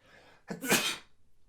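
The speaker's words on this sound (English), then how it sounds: "I'm going to sneeze." A single sharp sneeze, close and sudden, with a brief intake of breath before it, then quiet.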